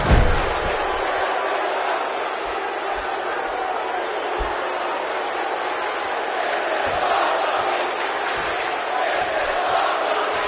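A large arena crowd in the WWE 2K17 wrestling video game roars continuously during a Hell in a Cell match, a dense wall of cheering with occasional thuds and slams breaking through.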